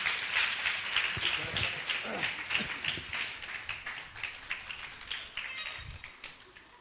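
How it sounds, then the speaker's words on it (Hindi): Church congregation clapping hands during a Hindi-language worship service: dense, continuous clapping at moderate level, fading slightly over time, with occasional low voices underneath. "ताली बजाएं"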